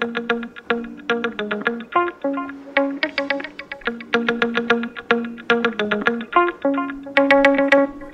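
A completely clean electric guitar line picked through an amp with light compression, high-pass filtering and a touch of delay, for a future funk track; crisp, bright notes run in quick rhythmic phrases, close and steady, with no voices.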